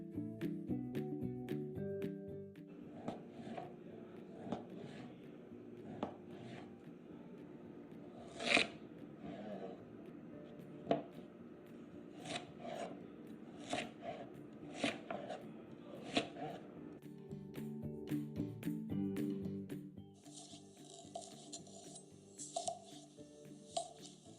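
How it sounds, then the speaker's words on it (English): A cheese knife cutting through a potato in repeated crisp slicing strokes, close up and fairly quiet, with faint scraping and clinks between cuts. "You hear that slide through the potato?"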